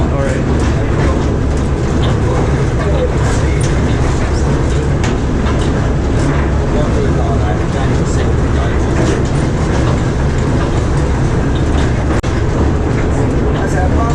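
Train at East Kent Railway heard from on board, a loud continuous rumble of running gear with faint rhythmic clicks, steady throughout, with people talking now and then over it.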